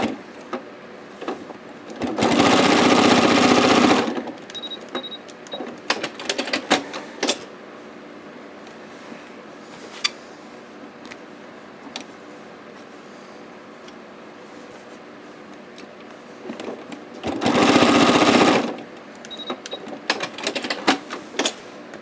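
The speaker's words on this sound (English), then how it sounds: "do a little bit of stitching up in the lightest part of these clouds" A sewing machine stitching a beach landscape thread painting whirs in two loud bursts of about two seconds each, with quieter clicks and small handling sounds between them.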